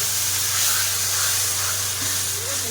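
Water poured into a hot pan of spiced meat masala, a homestyle Bengali curry, producing a constant loud sizzling hiss that holds steady throughout, with no talking.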